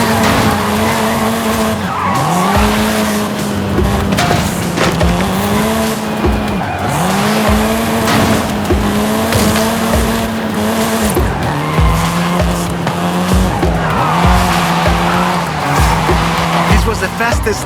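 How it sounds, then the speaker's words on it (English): A seventh-generation Volkswagen Golf R racing with repeated long tire squeals and skids over a revving engine, loud and continuous, with a voice talking over it. "This version is the Volkswagen Golf R"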